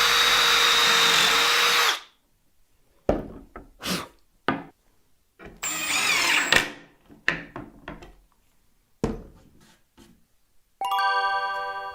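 A power drill with a countersink bit whirs steadily for about two seconds, then a series of short clicks and knocks follow, with another brief drill burst near the end.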